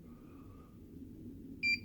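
After a quiet stretch of low room hum, a single short, high electronic beep from a safe's keypad sounds near the end.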